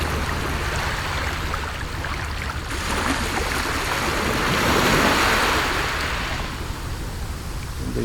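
Ocean waves wash and surge in a steady broadband roar, captured as an ambisonic recording with one swell building toward the middle before easing off; continuous and fairly loud, with no voices.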